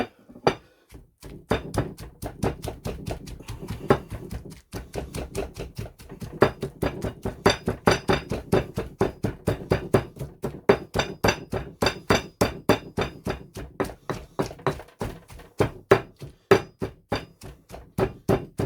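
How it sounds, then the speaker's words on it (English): Shallots are pounded in a pestle and mortar for Thai red curry paste, giving a long series of sharp, close thuds in a fast, steady rhythm, alone without speech. "I'm going to do half at a time so I don't overwhelm the pestle and mortar."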